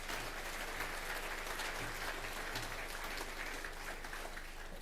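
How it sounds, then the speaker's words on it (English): Steady applause from an awards-night audience honouring playgroup volunteers at a rugby league awards ceremony, a dense continuous patter of clapping filling the room without a break, fairly faint overall. "can you please just give them a round of applause?"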